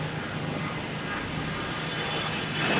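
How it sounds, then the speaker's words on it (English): American Airlines E175 jet airliner arriving at Boston Logan Airport, a steady broad engine roar heard from a distance that swells slightly toward the end. "I have American Airlines coming in from Columbus."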